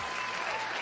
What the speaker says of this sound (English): I need you to clap right now